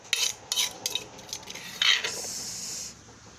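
Santol salad is pounded in a mortar, a quick run of sharp, crisp knocks and scrapes followed by a longer scraping stroke, with no talking.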